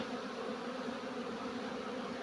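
Honeybees on hive frames, heard during a spring inspection of stacked-body hives, giving a steady, close, continuous hum that stays even throughout, with no talk over it.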